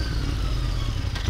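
Royal Enfield Interceptor 650 twin-cylinder engine running close by, a steady low throbbing rumble with no voices.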